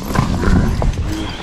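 Horses' hooves clip-clop loudly and steadily, close by, while cattle are driven in from another farm for sorting, with busy outdoor commotion around them.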